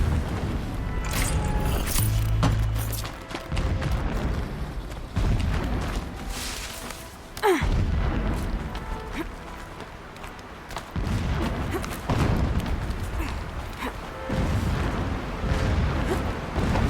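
Muffled distant explosions in Horizon Zero Dawn sound as low booms that recur through a rumbling, wind-swept game soundscape, never close or sharp.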